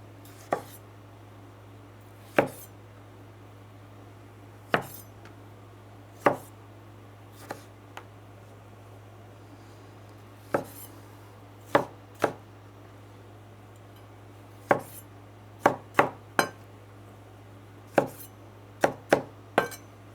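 Tomatoes cut for shepherd's salad, sharp knife strikes on a cutting board spaced a few seconds apart at first, then coming in quicker clusters, close and crisp over a low steady background hum.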